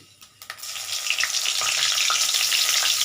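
Panch phoron and dried red chillies hit hot oil, a few quiet taps erupting into a loud, close, continuous hissing sizzle with scattered crackles and pops, with no talk.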